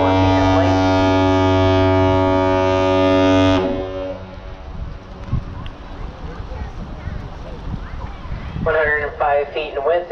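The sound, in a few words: foghorn of the 1,004-foot lake freighter Edgar B. Speer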